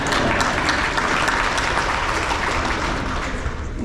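An audience claps through a sheriff's keynote speech in Wabaunsee County, Kansas, sustained, dense applause from a large crowd at steady loudness, easing slightly near the end with a brief bump at the close.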